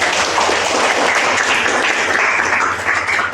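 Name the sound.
students applauding their classmates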